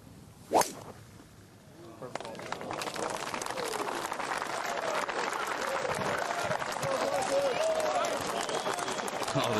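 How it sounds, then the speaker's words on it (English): At The Open Championship, a sharp crack of a golf shot is followed by a large outdoor gallery breaking into sustained applause and cheering that builds and holds loud to the end. "Oh, the cheers from the crowd."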